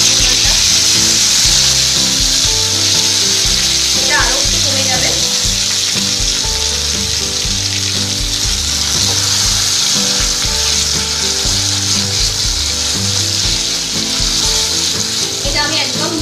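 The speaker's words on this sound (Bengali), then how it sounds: "এবার আমি কচু শাকটা দিয়ে দিচ্ছি দেখুন কচু শাকটা থেকে জল বেরিয়ে কমে" Taro leaves (kochu shak) cook down in a pan for a vegetarian Bengali dish, giving a loud, continuous frying sizzle as water steams off, with occasional stirring scrapes and no speech.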